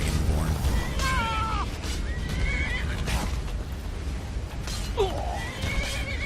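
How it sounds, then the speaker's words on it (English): A horse in the video game Skyrim whinnies several times, loud and close, with shrill wavering neighs against a noisy game background and faint hoof clopping. "Guys, it's a horse."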